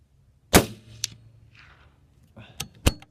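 A single subsonic .243 rifle shot cracks sharply and fairly quietly, followed by faint metallic clinks and handling noises in an otherwise quiet outdoor setting.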